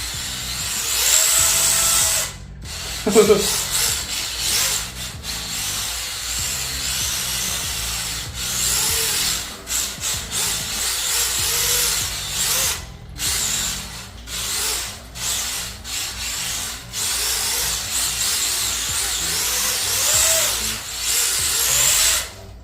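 A brushless upgraded LDRC 1804 MX5 Mazda Miata mini RC drift car motor whines at full throttle in repeated rising and falling bursts, close and loud, with scraping and rubbing noises between runs.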